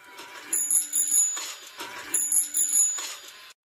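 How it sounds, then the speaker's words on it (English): Bell on a small kitty-sized tricycle in a film rings in quick bright bursts, two clusters of rapid metallic chings separated by a short pause, close and clear. "grab a little kitty-sized tricycle, complete with a bell. Ching, ching, ching, ching. They keep doing the bell."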